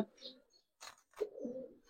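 A brown-throated pigeon gives a couple of soft, low coos close by over about two seconds, with a brief voice-like sound between them.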